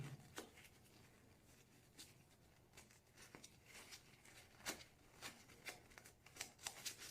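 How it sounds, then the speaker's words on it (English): A paper towel is pressed firmly and wiped across the ear backing of a Sony Aibo ERS-11x robot dog, giving soft, close rustling swipes in an irregular rhythm, quiet throughout. "I'm wiping it off with a paper towel,"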